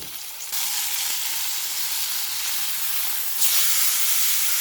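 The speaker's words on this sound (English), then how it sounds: "I will increase its flame because I want the same sear voice and same beautiful crust on this side as well." Beef steak searing in a hot pan, a loud, steady, close sizzle that swells brighter toward the end as the flame is raised.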